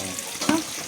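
Tomatoes drop into a hot frying pan, giving a brief burst of sizzling and stirring noise close by, with a soft background hiss before and after.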